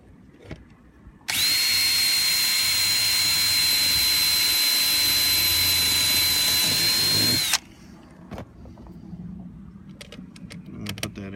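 A power drill tightens screws while a speaker is installed in a Toyota Land Cruiser FZJ80, giving one loud, continuous high whine of about six seconds that starts and stops sharply, followed by quiet handling clicks and knocks.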